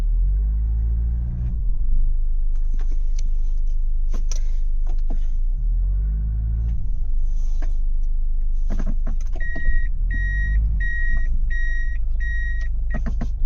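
A van stuck in deep blizzard snow, its engine rumbling low and loud while wheels spin and scrape in repeated surges, with intermittent knocks, clicks and a short electronic beeping pattern near the end.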